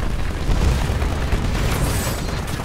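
Explosions from fire support in the Titanfall video game, a dense continuous rumble of booming blasts and bursts filling the whole stretch at steady loudness, with no talk.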